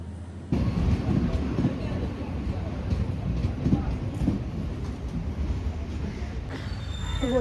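A crowded morning commuter train rumbles steadily close by, a dense low mechanical roar with faint wheel squeal near the end, while people talk over it.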